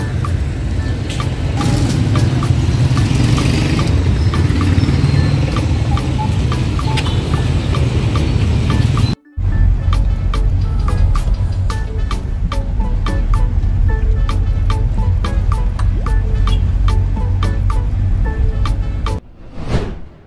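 A large, brand-new racing engine runs steadily and loudly close by, a continuous rumbling drone with a brief cut near the middle, and no one talks over it.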